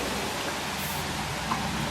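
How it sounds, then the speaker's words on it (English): Rain falling outside a house, a steady dense hiss of drops with no breaks, evenly loud throughout and no talking. "It's raining."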